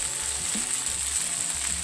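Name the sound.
onions frying in a pan with turkey bacon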